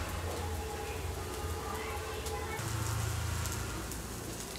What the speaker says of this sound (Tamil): இன்னும் கொஞ்சம் நெய்யை விட்டுக்கலாம்.